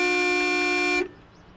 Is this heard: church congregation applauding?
no